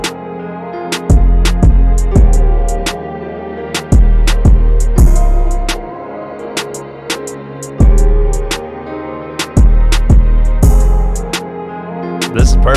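A trap-style beat with a heavy 808 bass layered under a punchy kick drum, maxed velocities, for a melodic emotional rap instrumental; deep booming hits recur every couple of seconds with bright percussion ticks above, loud and alone.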